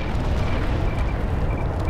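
Artillery shelling in a video game, a dense, continuous low rumble of explosions heard alone with no talk.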